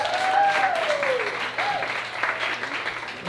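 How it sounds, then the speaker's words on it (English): A crowd at a live open-mic comedy and music show bursts into loud, sustained applause, with a host's voice and a few shouts or whoops rising over the clapping. "Come on, round of applause for yourselves."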